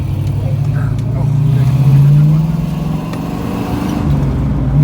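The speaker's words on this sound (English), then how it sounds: "rev her up again so they can see us shifting it nice" A 1970 Ford Mustang Mach 1 V8 rumbles nearby with a low, throaty engine note that swells in a rev and settles back, while people talk over it.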